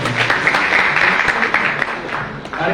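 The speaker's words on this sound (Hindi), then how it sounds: "यहाँ उपस्थित कार्यकर्ता बंधुओं से निवेदन करूंगा कि जोरदार ताली" An audience at a Congress party office event applauds loudly, a dense steady wash of many hands clapping close and full, with an amplified voice heard over it.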